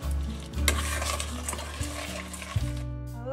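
A sugar and butter mixture for pecan squares heats toward a boil in a pan over medium-high heat, with a steady sizzling bubble under repeated scraping strokes of a stirring utensil.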